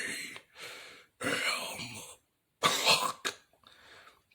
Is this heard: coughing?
yes